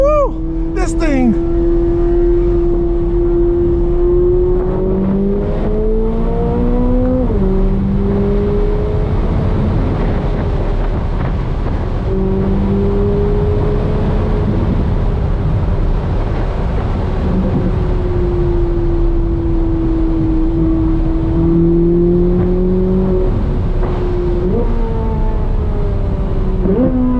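A Chevrolet C8 Corvette Z06 engine drones loud and steady at close range around a race track, its pitch sweeping up and down through gear changes on a final lap, with a voice talking over it.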